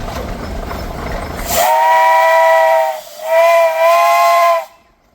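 A loud steam engine whistle blows in two long sustained blasts with a brief dip between, following a burst of hissing steam, then stops abruptly.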